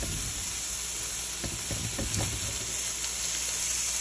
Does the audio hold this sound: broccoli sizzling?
yes